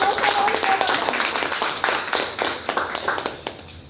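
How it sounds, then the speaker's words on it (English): Audience applause at a Toastmasters educational session on evaluation speech contests, a brief burst of scattered clapping with talk over it. "Can we have a big round of applause for all of them?"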